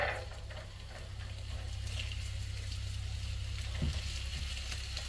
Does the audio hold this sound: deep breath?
no